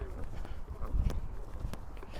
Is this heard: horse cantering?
yes